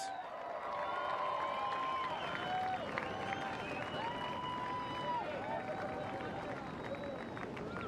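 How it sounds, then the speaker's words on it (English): A beach crowd applauds and cheers a young surfing contest winner at the Pipe Masters prize presentation, a continuous mid-distance patter of clapping under an announcer's voice and crowd chatter. "A round of applause for 19-year-old John Florence."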